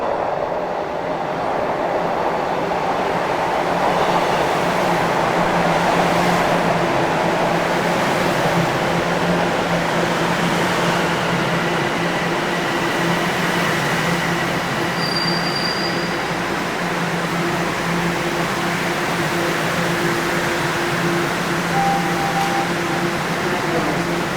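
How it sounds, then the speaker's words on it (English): A northbound Toronto subway train pulls into the station with a loud, continuous rumbling roar and high metallic wheel squeals, heard up close with no talking. "And here comes the northbound train."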